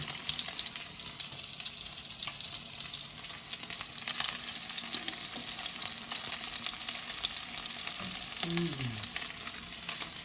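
Bite-sized meatballs fry in a pan with a steady, continuous sizzle throughout, and a faint short tonal sound rises briefly near the end.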